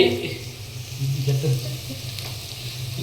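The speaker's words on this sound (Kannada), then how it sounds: "ನೋಡಿ ನೀರುಳ್ಳಿ ಈಗ ಫ್ರೈ ಆಯ್ತು" Onions frying in oil give a loud, close sizzle that holds steady with a brief stir, and a voice murmurs faintly beneath it.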